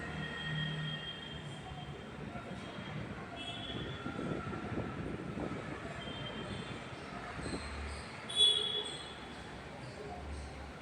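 A train rumbles past at close range over the railway crossing at Pendhar Phata, Taloja, a steady rolling roar with faint clatter and a brief sharp squeal near the end.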